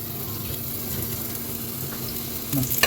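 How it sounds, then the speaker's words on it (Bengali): An onion sizzles in hot oil in a home kitchen pan, a steady crackling fry with a low hum beneath, growing busier near the end as it is stirred. "এখন এই তেলের মধ্যে আমি একটা পেঁয়াজ দিয়ে দিলাম"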